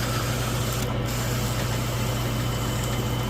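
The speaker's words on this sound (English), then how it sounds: "shut that lathe off" Metal lathe running steadily while a hardened shaft is polished, a constant mechanical hum with a strong low drone and broadband grinding hiss, close and continuous with no talk.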